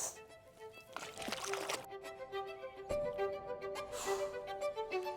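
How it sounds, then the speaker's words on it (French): A fish caught from a boat is released back into the water with a few soft splashes and trickles, near and faint, followed by small dripping and watery movements. "on va la remettre à l'eau"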